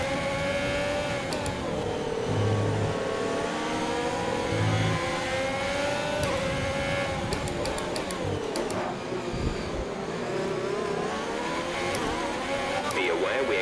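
A Formula 1 race car engine in the F1 2020 racing game whines steadily at high revs, rising and falling through gear changes, loud and continuous throughout, with a radio voice talking over it.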